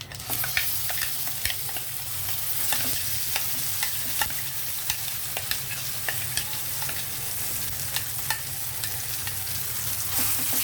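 Steady frying sizzle with repeated scraping and stirring clicks as a spoon stirs moringa leaf chutney into a hot oil tempering, continuous and close, with no voices.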